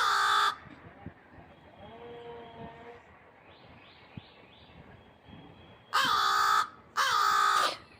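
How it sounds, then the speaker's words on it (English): Crow cawing loudly nearby, three harsh calls at the start and two more near the end, with fainter chirping birds in between on a quiet morning. "That one bird's being very vocal this morning."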